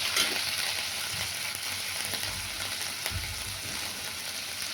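A pan of carrot, eggplant, plantain and potato frying with salt, stirred with a spoon: a steady, close sizzle with occasional scraping strokes and no talking.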